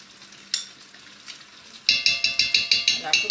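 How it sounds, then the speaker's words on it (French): Tomato concentrate goes into a sizzling pan for a beef bourguignon with peas. A soft fry comes first, with a clunk or two. A rapid run of regular, bright metallic scrapes follows as it is stirred in, close up. "On va mettre le concentré de tomate"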